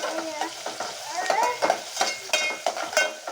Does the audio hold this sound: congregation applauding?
no